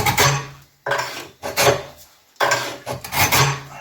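A carbide tool sharpener is dragged across a piece of steel in four harsh rasping strokes, each a loud gritty scrape separated by short pauses.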